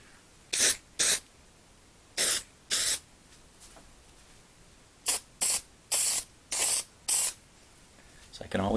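Thick silver spray paint hissing onto a 1/64 scale NASCAR diecast model car in short close bursts, two pairs and then five quick sprays, with quiet pauses between.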